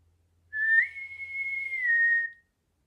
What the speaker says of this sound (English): they did that old naval whistle